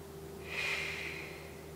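A single slow exhale during a total-body warm-up, a soft airy breath swelling and fading over about a second, close and alone over a faint steady hum.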